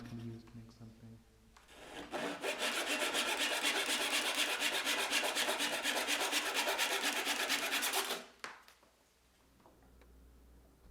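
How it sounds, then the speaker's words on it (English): Abrasive sanding of sharp edges on a handmade wooden jewelry piece: a loud, steady rasping scrub with rapid back-and-forth strokes for about six seconds, then stopping, with quieter handling before and after. "now I'm sanding the sharp edges down"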